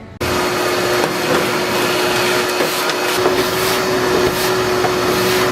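A vacuum cleaner drones steadily and close inside the cab of a 1967 Ford F-100 pickup truck, with faint rattles and bumps as the nozzle moves around.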